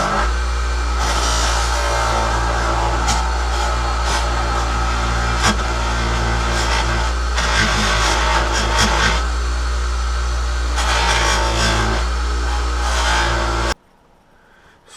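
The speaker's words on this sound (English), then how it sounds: "Still going through, buffing all the parts out." Buffing wheel polishing the hub of a Honda CB350 motorcycle, a loud steady motor drone with a deep hum and a harsh grinding hiss that swells as the part is pressed, stopping abruptly near the end.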